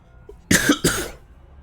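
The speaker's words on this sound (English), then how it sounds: "A little coughing fit came from nowhere." A man's sudden coughing fit: two sharp, loud coughs in quick succession, close up, against faint background hum.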